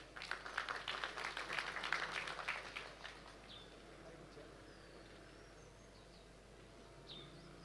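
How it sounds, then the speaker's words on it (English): An audience applauds for the chairman at a Meru National Polytechnic ceremony, with dense clapping for about three seconds before it fades into quiet room tone and a few faint chirps. "Let's clap for our chairman."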